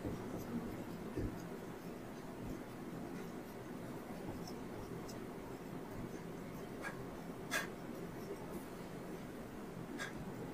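Marker or chalk strokes on a board come as faint, sparse scratches and taps over a steady background hiss, with no talking.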